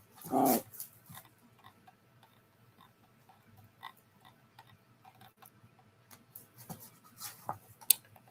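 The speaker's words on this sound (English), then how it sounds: "Stop that barking, girl." A female dog gives a single loud bark near the start, followed by scattered quieter clicks and small sounds, with another sharp noise near the end.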